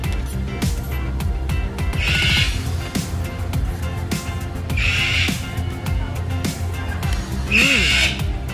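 A hungry bird squawks loudly in three or four bursts at a milk station in Barili, Cebu, over a busy background with people talking.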